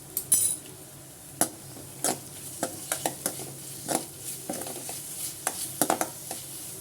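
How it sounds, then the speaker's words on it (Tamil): Onions sautéing with ginger garlic paste in a pan, a quiet sizzle under a string of sharp spoon-on-pan scrapes and stirring clinks, close by with no talk. "இஞ்சி பூண்டு பேஸ்ட்டு சேர்த்து நல்லா பச்சை வாசனை போகிற அளவுக்கு வதக்கிக்கலாம்"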